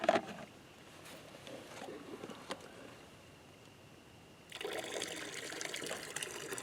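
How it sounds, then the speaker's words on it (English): Water pours out of a tub after ore extraction testing, a steady faint trickle that swells into a louder, fuller gush partway through, with no talking. "look right at the corner of that tub where I'm pouring the water out"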